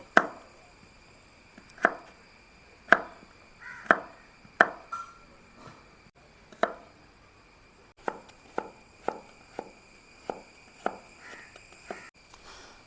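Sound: chopping cooked beef fry into small pieces

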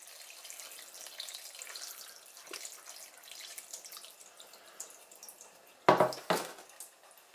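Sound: tap water washing vegetables

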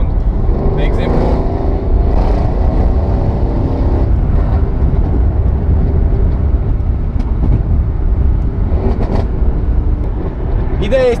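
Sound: sports car accelerating hard

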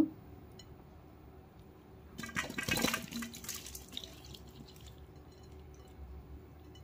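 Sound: draining water from lemon pickle through perforated bowl

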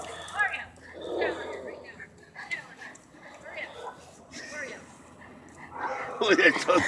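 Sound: dog whimpering and barking

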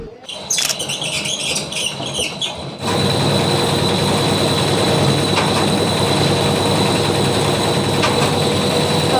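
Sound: engine running on a straw baler

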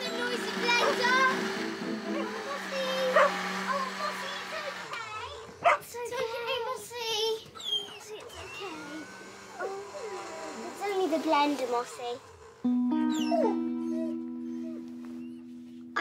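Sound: dog barking and whimpering

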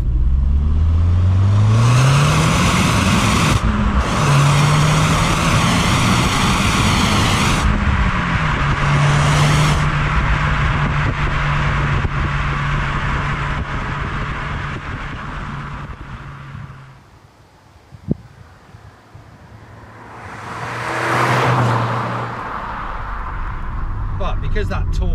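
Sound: Audi TT engine revving during drive

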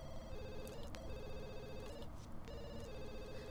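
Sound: telephone ringing in the video game The Sims 2

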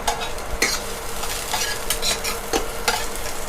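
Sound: stir-frying bamboo shoots with garlic and shallots

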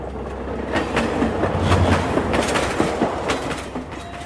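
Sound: train passing station at high speed

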